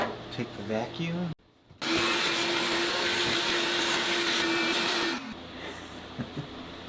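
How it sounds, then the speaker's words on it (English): A vacuum cleaner runs inside the trunk of a 1966 Buick Riviera, a loud steady droning whine that cuts out briefly, resumes for several seconds, then drops away under quieter shop noise. "take the vacuum."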